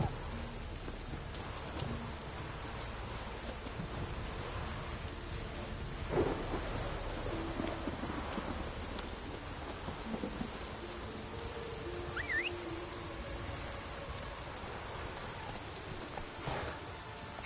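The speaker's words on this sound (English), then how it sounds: "Oh, raining again." Steady rain falls with rumbling thunder in The Witcher 3 on PS4, a continuous dense wash of rainfall with deep rolling thunder swelling in the middle, a faint whistle-like tone briefly rising over it.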